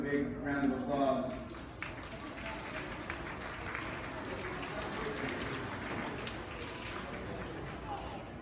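Audience at a kindergarten graduation ceremony clapping steadily and evenly for several seconds, with a voice speaking over the first second.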